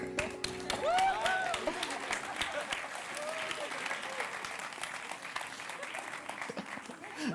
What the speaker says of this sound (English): Please, huge applause to this team.